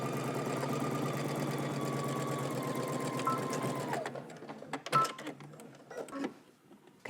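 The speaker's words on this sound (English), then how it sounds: "Okay, now we're going to head to the sewing machine." Sewing machine stitching a bodice lining seam at a 5/8 inch allowance, a steady close whirring run that stops partway through, followed by clicks and fabric handling.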